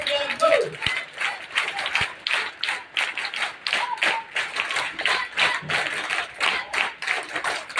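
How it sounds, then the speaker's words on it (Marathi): Students give a teacher a round of applause at a school event for Annabhau Sathe's birth anniversary, a dense, steady patter of many hands clapping together throughout, with some voices mixed in. "आदरणीय चांदणे सरांनी जोरदार टाळ्या पाहिजे"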